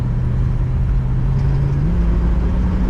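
A 1964 Chrysler 300 Convertible with a kickdown transmission drones with a steady low engine rumble while driving on the throttle, a constant hum with a slight pitch shift near the end, no voices.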